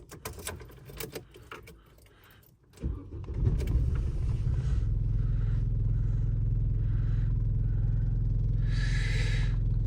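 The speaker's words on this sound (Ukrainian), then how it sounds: "Але все одно машина троїдна. Ну, давайте ще раз я заведу її." A diagnosed Opel Zafira A that misfires and won't drive is cranked with a rattle of keys, fires up and settles into a loud, rough, uneven idle that continues to the end.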